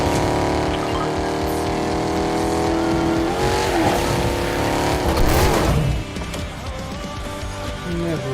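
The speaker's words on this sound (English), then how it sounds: "I like the way this car sounds." Car engine revving hard in the Fortnite video game, a loud sustained roar with rising and shifting pitch across several seconds, briefly peaking before dropping to a lower steady drone, with no talking.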